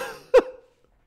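A single short, voiced belch from a Portal 2 co-op player, a quick throaty burst with a brief tail, fairly close and standing alone in the quiet.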